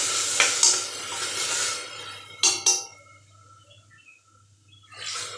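Lentils are stirred into a frying spice masala in a home kitchen, with bursts of sizzling and spoon scraping against the pan, then a quieter lull before another sizzle near the end.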